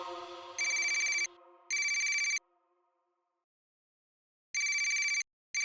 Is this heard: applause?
no